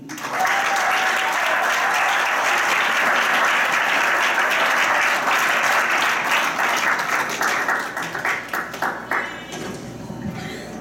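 A crowd at a Congolese wedding ceremony in Canada bursts into sustained applause, loud and dense, then thins toward the end into scattered individual claps.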